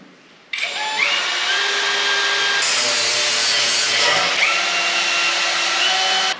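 A Cat power drill bores holes in a large metal forklift attachment, starting abruptly after a short quiet moment and then grinding loudly and steadily at close range, with slight shifts in pitch.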